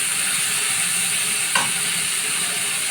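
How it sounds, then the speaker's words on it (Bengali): Cauliflower frying in a pan gives off a continuous bright hiss of sizzling oil, close and even, with a single brief scrape of stirring partway through. "এখানে আমি ফুলকপিগুলো দিয়ে দিলাম। এই যে দিয়ে এখন নেড়ে ছেড়ে ডেকে রাখবো।"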